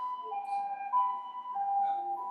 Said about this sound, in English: maybe I'll wait until this ambulance leaves.